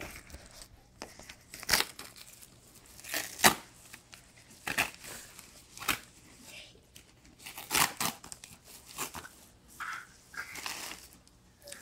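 Paper packaging is torn and crinkled open in a series of sharp rips and rustles, close and moderately loud, with pauses between bursts and people talking quietly nearby.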